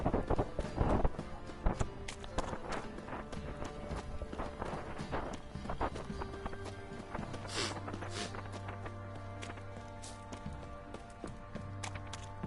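Hooves gallop in The Witcher 3 with quick, rhythmic clip-clops at moderate volume. Scattered game sounds and a brief voice mix in.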